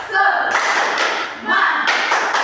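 Group of teachers outdoors on a hot day doing a rhythmic clapping chant, bursts of loud claps alternating with shouted chanting voices, close and energetic.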